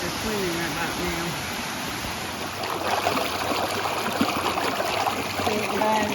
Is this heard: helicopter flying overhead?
no